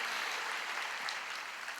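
A church congregation claps together in praise during a worship service, a dense, steady wash of applause that stays even and moderately loud throughout, with no voices standing out.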